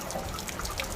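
Water draining from an RV water heater while winterizing a camper, a steady splashing trickle heard close and continuous, with no talking.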